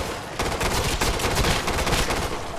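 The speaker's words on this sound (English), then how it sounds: "I didn't know this gun was burst fire." Rapid burst-fire gunshots from a weapon in the video game Killing Floor 2, loud and dense, cracking in quick clustered volleys with no pauses throughout.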